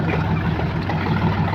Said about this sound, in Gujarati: જોઈ લો બીજું ટ્રેક્ટર આવી ગયું